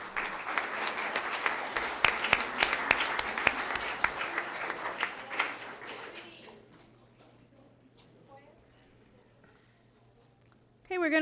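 A crowd at a school board meeting applauds students with dense, steady clapping for about six seconds, then the clapping fades to a quiet room before a voice starts speaking at the end.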